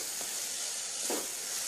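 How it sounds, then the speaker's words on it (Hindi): Lentils frying in oil over a medium flame, a steady broad sizzle with a couple of brief stirring scrapes, close and continuous with no talking. "दाल को मीडियम फ्लेम पे मैं इसको पका रही हूँ"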